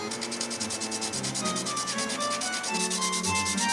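Steady, rhythmic scraping of sandpaper rubbed back and forth on a mini car part, close and continuous, with no talking.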